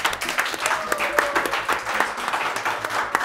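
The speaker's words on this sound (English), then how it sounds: "Let's give a round of applause to Waithera" An audience applauds a spelling champion on a children's educational TV show, steady close clapping from a small crowd with some chatter underneath.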